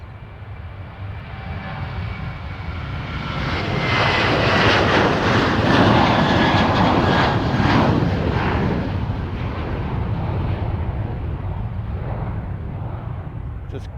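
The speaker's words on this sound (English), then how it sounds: "here comes the first Ryanair off to Malaga." A Ryanair jet airliner takes off from runway 27 at East Midlands Airport, bound for Malaga. Its loud, broad engine roar builds over several seconds, peaks, then holds steady to the end.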